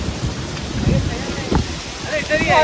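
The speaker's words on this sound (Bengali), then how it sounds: "বৃষ্টি চালু হয়ে গেছে।" Steady rain patters across the whole stretch with a low rumble underneath, fairly close and continuous, during a motorcycle trip from Kolkata to Ghatshila, with a brief faint tone near the end.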